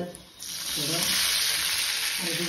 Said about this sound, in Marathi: मित्रांनो आता तडक्यामध्ये पाणी पण टाकायचं